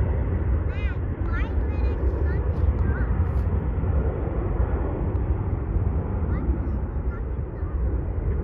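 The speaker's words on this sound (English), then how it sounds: "this Southwest Airlines is going" Southwest Airlines jet, flight 2763 to Kansas City, taking off near Marina Park in San Leandro, California: a loud, steady engine roar fills the whole clip, with faint chirps riding above it.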